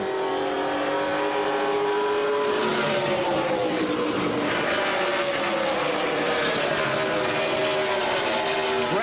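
Late model stock cars in a 1998 NASCAR Featherlite Southwest race roar past on an oval track as a dense, continuous engine drone with shifting pitch, loud and steady throughout.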